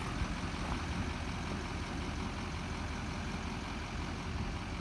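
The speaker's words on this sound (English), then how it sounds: "as you can hear, the truck runs well" A 2008 Chevrolet C4500 Kodiak utility service truck runs steadily with a continuous low engine rumble. The engine is heard alone, with no talk.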